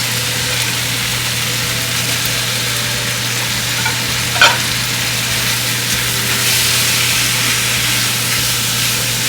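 Tomatoes for beef curry fry in a pan with a steady loud sizzle, one sharp clink of the utensil midway and a low constant hum underneath.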